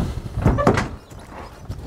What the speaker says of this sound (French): on ouvre la porte.